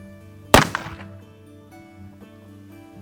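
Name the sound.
Pietta 1858 Bison revolver shot at 100-yard steel plate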